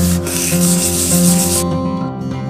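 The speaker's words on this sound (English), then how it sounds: "I'm going to steel wool this thing and flatten the gloss down a little bit." Steel wool rubs across a freshly painted motorcycle gas tank to dull the gloss, a continuous, loud, close scratching hiss that drops to a softer scrape near the end.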